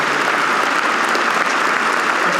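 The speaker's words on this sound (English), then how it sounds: "Let's give them a big round of applause for giving us some time" Steady applause from an audience at the Wisconsin Aviation Hall of Fame 2025 ceremony, thanking EAA staff; dense, even clapping fills the whole stretch with no talk over it.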